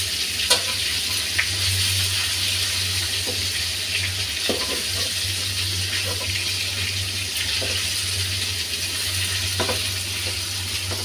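Leafy greens fry on medium-low heat, a steady close sizzle with scattered light stirring clicks over a low continuous hum.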